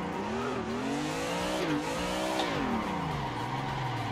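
Simulated car drifting in a racing video game, the engine droning with pitch swings as the car slides around tyre barriers, tyre squeal woven through a steady, loud, continuous run.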